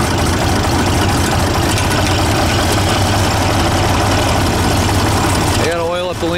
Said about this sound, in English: Let's see if it'll move it idle without stalling.